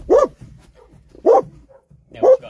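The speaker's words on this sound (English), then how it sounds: "Dog out there, hold on, he'll be gone in a sec." A dog outside barks three times in a slow, evenly spaced sequence, each bark loud and distinct against an otherwise quiet room.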